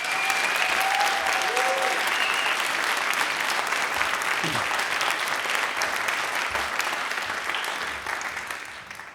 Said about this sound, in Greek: Άλλο στο χειροκρότημα για όλους τους ανθρώπους που δουλεύουν σήμερα εδώ.